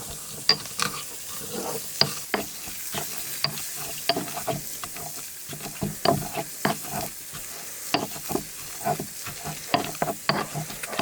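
Garlic and mixed peppers with a little vegetable oil being crushed and ground, a steady series of close pounding and scraping knocks in an irregular rhythm.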